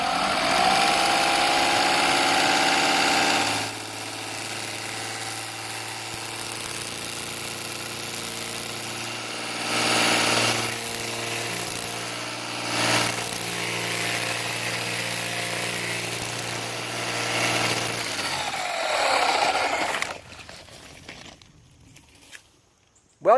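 A gas string trimmer runs at high revs against fence armor, a loud buzzing engine drone that shifts in pitch as the line strikes the guard, then cuts out near the end.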